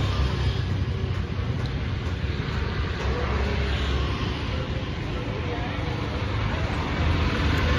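Heavy road traffic rumbles past in a continuous low, fairly faint wash of engine and tyre noise with no clear breaks between vehicles.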